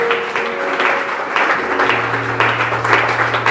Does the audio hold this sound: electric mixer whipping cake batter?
no